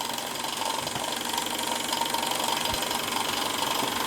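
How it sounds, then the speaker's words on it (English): A Stirlingkit SE02 Stirling engine driving GF-01 miniature workshop pulleys, with a generator and a light also connected, gives a steady close mechanical whir with fast rhythmic ticking and rattling, no voices. "Driving both the GF-01 and the generator and the light."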